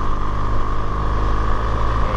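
A BMW R1200GS Rallye motorcycle engine runs at high revs in first gear on a steep mountain pass, a loud, steady droning roar with wind rush and no distinct rises or drops.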